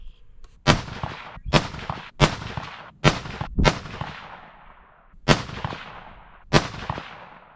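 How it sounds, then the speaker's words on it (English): A 6mm ARC rifle fires warm-up shots to heat the barrel and burn off bad loads: seven sharp, loud reports at uneven intervals, each trailing off in a short echoing decay, with no talking. "see if I can get this barrel warmed up and burn off these bad loads before we hop into the real deal."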